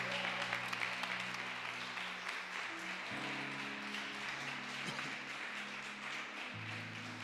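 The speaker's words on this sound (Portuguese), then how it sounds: "Dê um aplauso bem forte a Ele." A church congregation applauds during a worship service, a faint, steady wash of clapping that runs throughout, with sustained organ or keyboard tones underneath.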